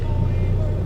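An old Dodge conversion van with 230,000 miles and low coolant runs poorly under a little throttle, giving a steady low engine drone heard close and alone for under a second.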